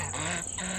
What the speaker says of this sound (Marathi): छान वाटते बदकाकडे बघून.